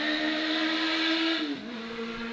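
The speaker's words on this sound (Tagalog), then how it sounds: "Kalang ang bilis ng motor na yun. Kasi tabing kalsada tong namin likuran." A motorcycle speeds past on the roadside, its engine whine held loud and steady, then dropping in pitch as it passes and fades slightly, heard alone without talk.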